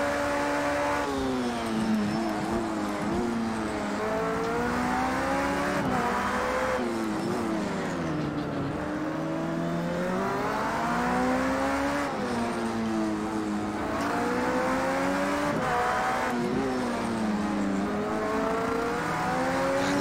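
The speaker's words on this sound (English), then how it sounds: "The traction control sounds like something out of Star Wars." A race car in Project Cars 2 laps a circuit at Long Beach in the IMSA WeatherTech SportsCar Championship. The engine rises and falls in repeated revving sweeps through gear changes, with a constant high whine from the traction control, loud and close throughout.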